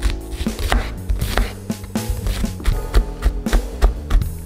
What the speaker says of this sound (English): I cut onion into small cubes.